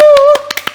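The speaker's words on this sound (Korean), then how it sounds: "박수 치세요, 박수!" A few sharp hand claps at a youth church worship service, spaced unevenly after a held tonal note fades, close and distinct against an otherwise quiet room.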